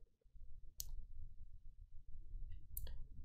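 Two sharp mouse clicks, one early and one late, stand out clearly above a low rumbling background hum, with a faint tick just before the second.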